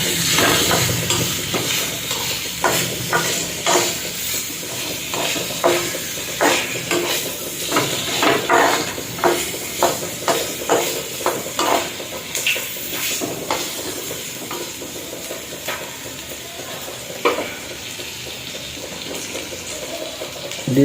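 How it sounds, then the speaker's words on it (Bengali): Fried potatoes are stirred in a pan, with a steady sizzle running under repeated scraping and clattering strokes of a spatula throughout. "দিয়ে একটু নেড়ে নিলাম"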